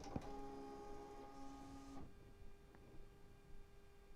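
An embroidery machine runs a short stitching burst on the outline of an in-the-hoop design, giving a faint whirring hum with a few clicks. The burst stops after about two seconds and leaves quiet room noise.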